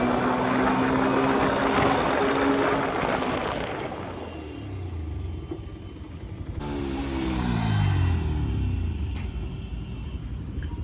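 A Bajaj Pulsar 125 motorcycle revs and passes during a braking test outdoors, its engine note rising and falling from moderate distance amid broadband road and wind noise.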